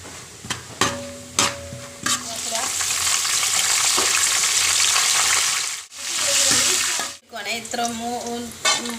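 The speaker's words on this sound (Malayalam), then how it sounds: "അപ്പോൾ നമ്മൾ തേങ്ങാക്കൊട്ട് അരിഞ്ഞ് വെച്ചിട്ടുണ്ടായിരുന്നേ, അത് ഇച്ചിരി ഇട്ട് കൊടുക്കുവാണ്. കപ്പലണ്ടി ഇട്ട് കൊടുത്തിട്ടുണ്ട്." Chopped coconut and peanuts fry in hot oil, a loud steady sizzle with stirring clinks and scrapes over it, briefly cut off twice before the spitting resumes.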